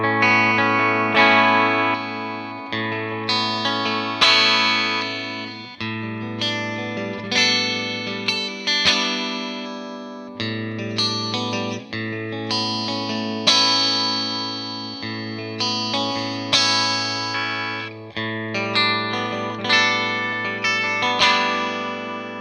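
An Ibanez RG421HPFM electric guitar played with its pickups coil-split through effects rings out in clear, shimmering chords and arpeggios, with chorus and echo trailing each note and gaps of silence between phrases.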